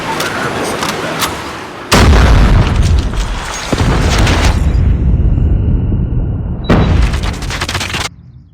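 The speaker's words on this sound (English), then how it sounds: "Predator missile inbound." Predator missile strike exploding in Call of Duty Mobile multiplayer: a loud, heavy boom lands about two seconds in, followed by sustained rumbling blasts and a second burst near the end, with no talk.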